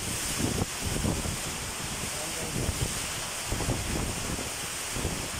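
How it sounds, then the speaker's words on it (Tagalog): Strong typhoon wind in Northern Leyte, Philippines, roars steadily against the microphone, a continuous rushing buffet with gusty bumps throughout. "Ang lakas ng hangin guys."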